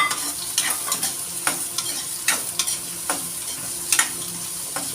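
Chopped onions and two green chillies fry in a pan, a steady sizzle punctuated by repeated scraping stirs of a spatula, close and clear with no talking.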